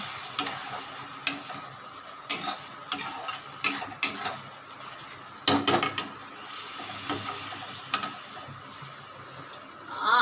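Spice masala for egg tadka slowly stir-fried in a pan, with a soft continuous sizzle broken by regular taps and scrapes of a spatula against the pan, fairly close and steady.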